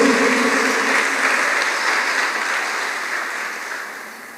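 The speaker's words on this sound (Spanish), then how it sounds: "Denle un aplauso a mi Señor Jesús" A church congregation applauds during a sermon, a broad steady roar of many hands clapping that gradually fades over a few seconds, with no voices on top.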